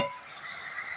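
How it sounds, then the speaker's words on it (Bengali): Masala for a puti fish curry being sautéed and stirred in a pan: a steady, close hiss of frying that holds evenly for a moment, with no talking. "তাই আমি কিন্তু মশলাটা বারবার কষিয়ে নেব।"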